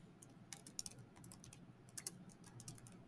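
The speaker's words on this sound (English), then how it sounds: "So I'm just typing." Keys tapping steadily on a computer keyboard while entering spreadsheet entries, with quick irregular clicks at close range throughout and quiet, no talking.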